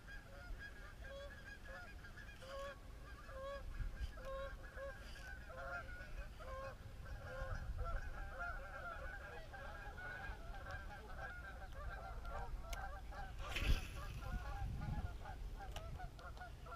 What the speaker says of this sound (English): A lot of birds, a lot of ruckus out here.